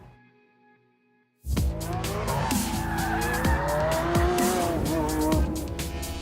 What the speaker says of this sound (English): It's got more power from its V12 engine